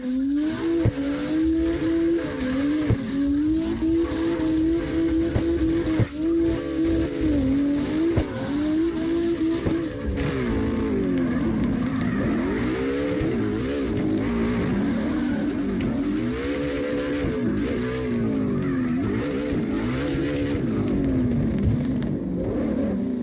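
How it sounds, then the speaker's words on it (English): Lexus LFA drifting in CarX Drift Racing Online, its engine note rising and falling steadily with revving, tire squeal and skidding throughout, loud and continuous with no talking. "Daredevil in a Lexus LFA"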